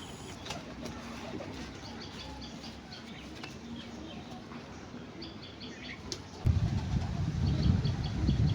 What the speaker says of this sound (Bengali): দুটোই গিরিবাজ পায়রা, পুরনো জাতের পায়রা